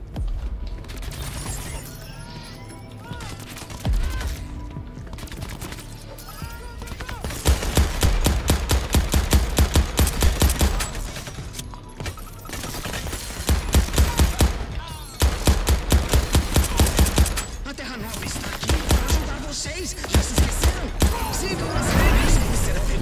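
Gunfire in the video game Crackdown 3, with bursts of rapid automatic shots coming in loud clusters between quieter stretches, set against game music and effects.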